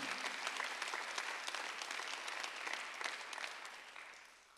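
A church congregation at a Sunday worship service breaking into applause, a dense, even patter of many hands heard from some distance that fades slightly at the end.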